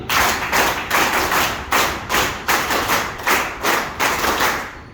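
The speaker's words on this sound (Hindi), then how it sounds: "विकास जी आपके लिए एक बार स्काउट ताली" An audience at a physical education gathering gives a scout clap, a steady rhythmic pattern of loud, sharp group claps repeating in regular bursts, close and alone with no talk over it.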